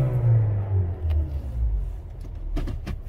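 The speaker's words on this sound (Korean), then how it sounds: "제가 악셀에다를 한번 밟아보겠습니다" A Hyundai Avante MD used car with about 152,000 km and a suspected engine fault revs as the accelerator is pressed, a low rumbling engine note that swells and wavers up close, with a few faint clicks near the end.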